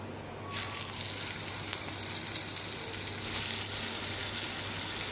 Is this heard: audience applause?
no